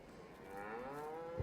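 A cow in the Farming Simulator 22 video game gives a single low, drawn-out moo, heard faintly with no other sounds around it.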